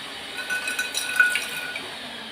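Running water splashes and trickles while a pressure cooker is rinsed in a kitchen, a soft, steady wash of sound close by.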